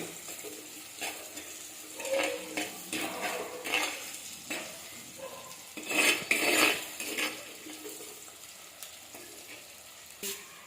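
Onions or spices being stirred and sautéed in a pan for a dried fish curry, a soft steady sizzle broken by scraping spoon strokes and light clinks against the metal pan, with no talking.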